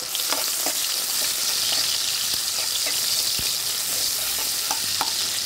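Potato, carrot and green chilli fry in hot oil for fried rice, giving a steady, close sizzle with small crackles and pops that continues unbroken without talk.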